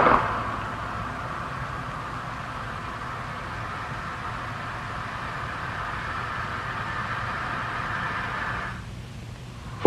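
Continuous broadband hiss of subsonic flow noise from a valve and piping, picked up at a channel entrance, steady and moderately loud before dropping off near the end.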